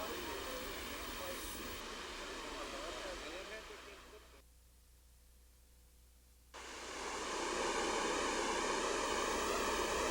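Triple Falls, a set of three cascades with a 145-foot drop in Transylvania County, North Carolina, roaring as a broad steady rush of water that briefly drops out and then returns full and loud.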